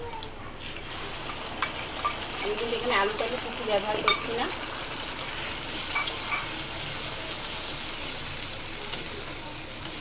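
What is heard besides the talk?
spice paste frying in oil with onions in a pan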